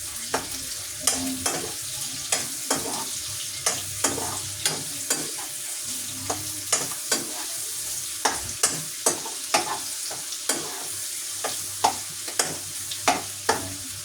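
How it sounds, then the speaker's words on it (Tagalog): Onions sautéing in a pan on the stove, stirred by hand with steady scraping strokes about once a second over a soft, continuous sizzle, close and fairly loud, with no talking. "Yan, nakalagay na po yung ating sibuyas. Halo-haloin lang po natin ito."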